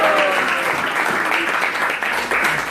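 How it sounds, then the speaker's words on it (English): Applause from an audience at a Sunday talk gathering at a Hare Krishna temple in Newcastle, a steady dense wash of clapping lasting the whole stretch with a faint voice beneath. "a big round of applause"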